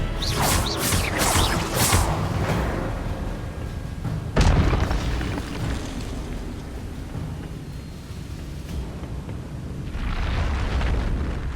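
Expelliarmus cast in Hogwarts Legacy brings a flurry of crackling magical bursts, then a sharp booming impact, followed by a lower rumbling ambience and a later whooshing swell.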